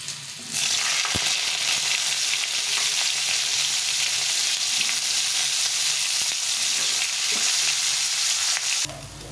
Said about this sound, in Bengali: এখন ফুলকপিটাকে একটু ভেজে নেব।